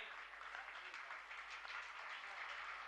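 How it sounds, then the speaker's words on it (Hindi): An audience at a Jain religious discourse gathering applauds, a soft, steady, distant patter of many hands that holds evenly for about three seconds. "करतल ध्वनि से आपकी ताली की अनुमोदना होनी"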